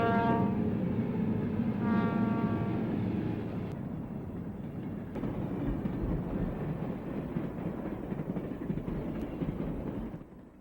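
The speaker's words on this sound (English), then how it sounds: "5 F units and a Jeep carry a train towards New Mexico." A train horn sounds at the start, then a Santa Fe freight train hauled by five diesel F units rumbles past steadily, its deep engine drone and rolling cars continuing without a break.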